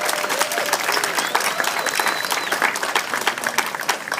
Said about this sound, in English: Let's give a round of applause for her and all her hard work.